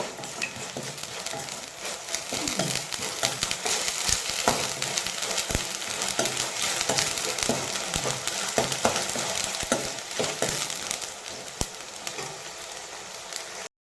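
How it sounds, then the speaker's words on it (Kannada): Two tomatoes fry over a high flame for egg gravy in a loud, steady crackling sizzle, close up, broken by frequent scrapes and taps of a stirring spoon against the pan, with no talk. "2 ಟೊಮೆಟೊ ಹಾಕ್ಕೊಂಡಿದ್ದೀನಿ. ಇದನ್ನು ಫ್ರೈ ಮಾಡಿ ಫಾಸ್ಟ್ ಇಡಿ ಫ್ಲೇಮ್."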